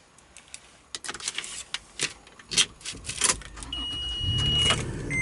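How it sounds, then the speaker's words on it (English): A 2012 Toyota FJ Cruiser starts up from inside the cabin: a few clicks and knocks, then the starter cranks and the engine catches into a rising steady idle, close and fairly loud. "starting the car"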